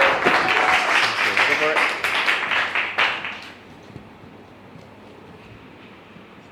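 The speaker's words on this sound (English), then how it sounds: "Give him a big round of applause for Dr. Tony Tan." Applause from an audience at a speech, dense and loud for about three seconds with voices mixed in, then cutting off to quiet room noise.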